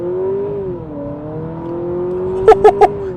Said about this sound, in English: We can try one out off the line, on the gas, puts the power down.